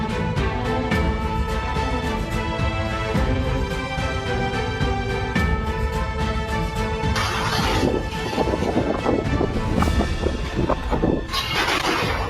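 Storm wind roars loudly and without pause, a dense close rush mixed with rain-like hiss and rumbling gusts throughout, with no voices.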